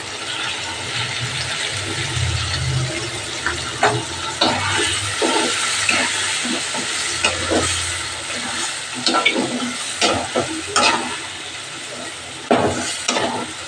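Soaked ground cumin, coriander and Kashmiri chilli paste frying in a pan for a thin egg curry, with a steady close sizzle broken by repeated scraping and clicking stirs, no talk.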